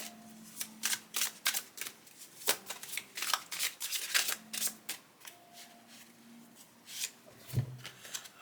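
Tarot cards are shuffled and drawn in quick bursts of riffling and sliding, crisp close-up flutters separated by short pauses, with a faint soft voice or tone in between.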